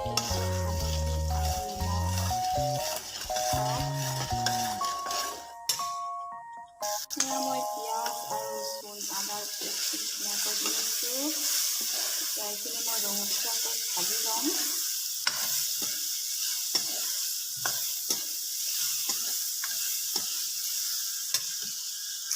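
Garlic, ginger and whole green chillies fry in hot oil, a continuous crackling sizzle after an opening stretch of music, broken by scattered spatters and occasional stirring clatter.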